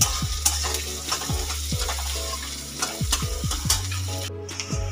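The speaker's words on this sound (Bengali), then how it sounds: "লঙ্কাগুলো দিয়ে দিলাম, এবার ভালো করে একটু লাল লাল করে ভেজে নেব।" Red chillies frying in hot oil for a whole masoor dal curry, a steady close sizzle broken by repeated scraping stirs of a spatula against the pan, with no voices.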